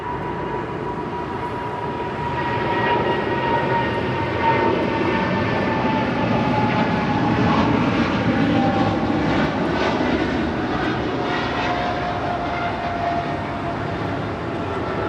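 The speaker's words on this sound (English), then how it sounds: "China Airlines cargo, the 777 now rolling it down 25 right" A China Airlines cargo Boeing 777 rolls down runway 25 right at Los Angeles International Airport, its jet engines building to a loud, sustained roar with steady whining tones throughout, with no talk.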